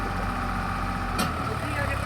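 A tractor engine pulling a loaded trolley drones loudly and continuously, close by, with a brief hiss partway through and voices faintly mixed beneath.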